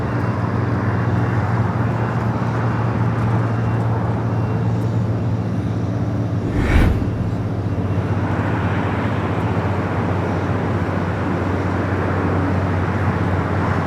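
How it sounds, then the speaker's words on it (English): A Singapore Airlines Boeing 777-300ER in Star Alliance livery, arriving at LAX from Tokyo Narita, gives a steady, broad jet roar that holds throughout, with a brief louder rush midway as it passes. "Singapore in the Star Alliance livery, Flight 12. Coming up from Tokyo Narita, that 777 at 300ER just a minute out."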